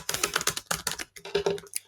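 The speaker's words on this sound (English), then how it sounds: "I'm shuffling the cards. This is a Henson Roberts tarot deck." A Henson Roberts tarot card deck being shuffled by hand: rapid, close, crisp papery riffles and taps in quick irregular bursts, with no talking.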